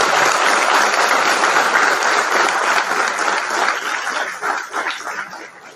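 A dense, loud round of applause from the audience at a convocation ceremony in Gwalior, welcoming President Droupadi Murmu; steady clapping fills the first seconds, then gradually thins and fades toward the end.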